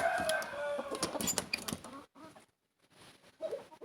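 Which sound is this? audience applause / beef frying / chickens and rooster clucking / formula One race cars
chickens and rooster clucking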